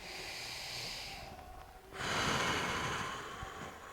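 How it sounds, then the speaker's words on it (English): A deep breath drawn in and then let out during a back-loosening stretch, a soft close airy inhale that breaks off before a louder, fuller exhale. "big breath in"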